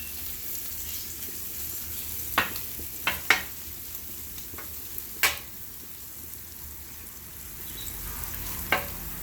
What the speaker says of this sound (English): Crisp that bacon up real good so that it's got a crunch inside the omelet